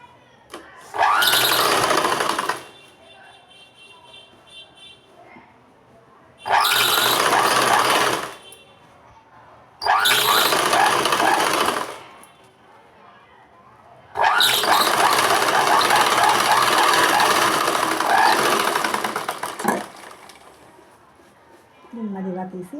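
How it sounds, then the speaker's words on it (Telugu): An electric sewing machine stitches an invisible seam attaching a shape belt, running in four loud bursts of rapid whirring separated by pauses, the last burst about five seconds long, close up. "మనకి కుట్టి పైకి కనిపించకుండా షేప్ బెల్ట్ అతుకుతున్నాను"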